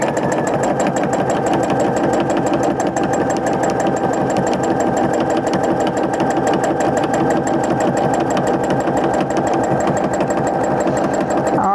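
A sewing machine runs a quilting stitch on a Valentine's mug rug, a continuous rapid mechanical chatter held at an even, loud pace from start to finish.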